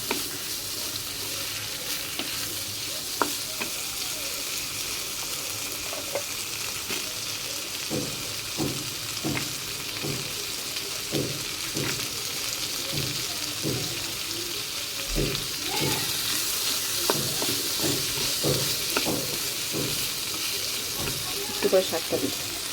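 Ingredients for puishak with jackfruit seeds lightly sautéing in a pan, a soft continuous sizzle broken by scattered stirring scrapes and taps, steady and close throughout.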